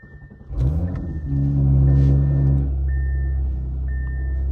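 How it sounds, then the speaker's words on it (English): An Audi RS5 B9 with freshly replaced spark plugs cranks and fires up, a brief starter whir giving way to a loud, steady low idle rumble that settles and holds, close by with no talk. "let's start up the car and see how everything's back to normal"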